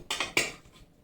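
Hot stewed beef soup ladled from a pot, a couple of quick clinks of the ladle against metal with a soft liquid pour, close and brief, no talking.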